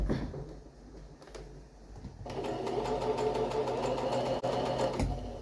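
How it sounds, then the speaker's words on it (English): A sewing machine stitching a fabric tube around a circular piece for a bolster cushion, starting with a few faint clicks and then running as a steady close whirring hum for several seconds. "So we'll just start stitching and working the tube around the circle."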